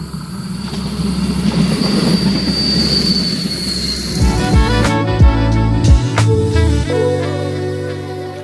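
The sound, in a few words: tourist train passing in the Algarve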